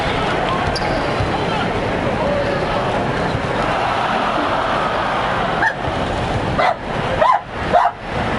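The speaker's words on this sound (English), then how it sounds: "My dog is going crazy." A pet dog barks a few times near the end, short sharp yelps over a loud, steady broadcast of a basketball video game with commentary and crowd noise, while someone talks.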